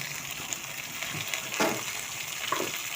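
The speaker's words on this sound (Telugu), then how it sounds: "వేసి ఇవి రెండు కలిపి ఇట్లా వేపాలి బాగా" Grated fresh coconut fries in hot oil for chutney, a steady close sizzle with a few sharper crackles and stirring sounds, no talk.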